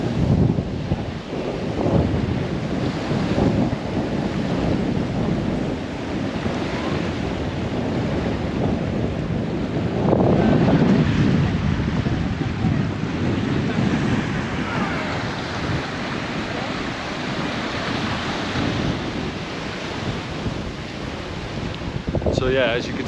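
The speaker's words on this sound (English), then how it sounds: "to give you an idea of the wind itself" Strong wind roars steadily across an open lake, with gusting rumble and waves lapping close by; no one speaks.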